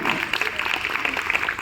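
Members of a yoga group clap their hands together in a quick, dense rhythm, fairly close, while voices talk over the clapping.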